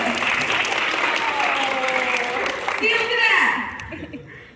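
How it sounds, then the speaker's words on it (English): Sustained applause from a crowd, a dense, steady clatter of clapping that swells slightly before tapering off near the end, with a voice sounding faintly over it. "I can do an applause."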